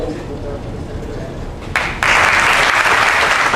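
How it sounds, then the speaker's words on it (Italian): Audience applause aboard a cruise ship event, a loud full burst of many hands clapping that starts abruptly after a stretch of talking and continues strongly to the end. "applauso da parte di tutti noi"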